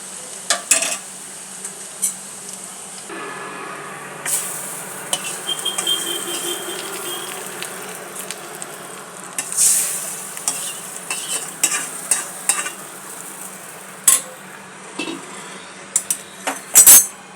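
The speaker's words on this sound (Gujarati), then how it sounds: "ગેસ બંધ કરી દઈશું અને વઘારને એડ કરી દઈશું મગમાં" Hot tempering sizzles and crackles as it is poured into cooked mung beans, with utensil clinks and stirring scrapes throughout; no voices.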